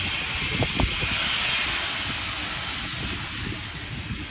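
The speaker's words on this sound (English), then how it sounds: "Is that the steam train going?" A low, steady rumbling hiss with a few chuffing thumps early on from a departing steam train, heard from a distance under open-air wind noise.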